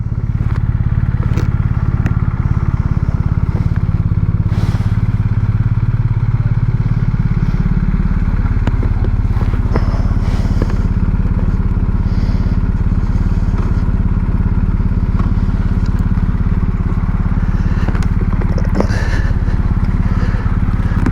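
A loud BMW boxer motorcycle engine runs steadily throughout, its deep idle rising in pitch partway through, with occasional clatter and clicks on top.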